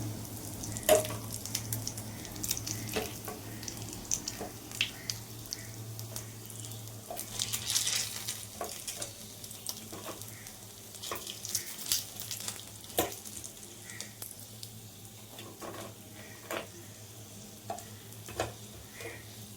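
Oil sizzles steadily as flattened-rice pakoras fry, with scattered clicks and scrapes from stirring and flipping; no one speaks.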